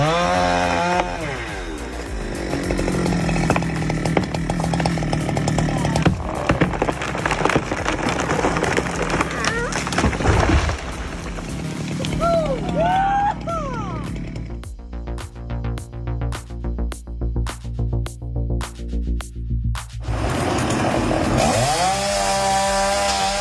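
A big chainsaw roars through a tree, its engine rising and falling as it bites into the wood, with a pulsing idle stretch midway before it revs hard again.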